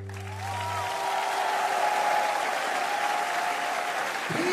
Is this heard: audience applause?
yes